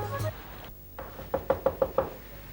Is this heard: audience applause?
no